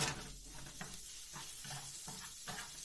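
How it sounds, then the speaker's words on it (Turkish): Sucuk sausage sizzles in hot oil in a pan while being stirred. A steady, soft frying hiss runs throughout, with faint scraping stirs at intervals. "Pişmesi için sucuklarımızı atıyoruz ve birazcık karıştırıyoruz."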